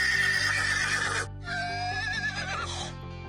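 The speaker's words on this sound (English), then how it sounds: "The horse says, neigh, neigh." A horse neighs loudly and close, giving a long whinny followed by a second shaky whinny with a trembling, wavering pitch, heard with no talk over it.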